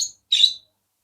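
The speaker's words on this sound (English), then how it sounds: "this is basically a bird aviary" Birds in a hotel aviary at Treasure Beach, Jamaica, which includes a large parrot: two short, bright chirps, the second louder and fuller, close and alone.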